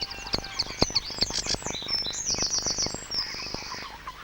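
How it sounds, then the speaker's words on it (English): Sedge warbler singing in a reed bed, a rapid varied stream of chattering, churring and sharp whistled notes, close and lively, alone without voices. "The varied song of the sedge warbler announces its arrival for the northern summer."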